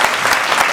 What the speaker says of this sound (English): Please welcome with a big round of applause, Steve Smart.